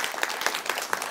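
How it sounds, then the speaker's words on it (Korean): A lecture-hall audience claps warmly to welcome a Seoul National University professor giving a talk on local autonomy and decentralization; dense, steady applause fills the whole short moment. "뜨거운 박수로 모시겠습니다."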